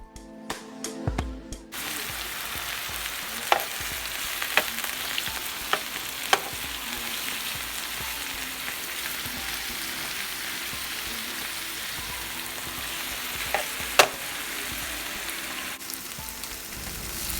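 Beef steak strips sizzle and fry in a pan with occasional stirring clatter, a steady hissing crackle throughout with a few sharp utensil knocks, no voices.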